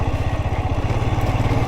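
A Royal Enfield Himalayan 411 single-cylinder motorcycle engine braking on a rough, stony trail descent, with a steady, close, pulsing low thump and clatter throughout.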